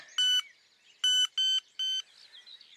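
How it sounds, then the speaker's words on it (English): Fishing bite alarm buzzer on a tench rod gives four short electronic beeps, one then three in quick succession, fairly faint and clean with no talk. "Put the buzzer on."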